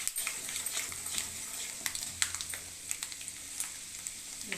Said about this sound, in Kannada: ಇವಾಗ ಒಗ್ಗರಣೆ ಇಟ್ಟಿದ್ದೀನಲ್ಲ, ಇದು ಸಿಡಿತಾ ಇದೆ.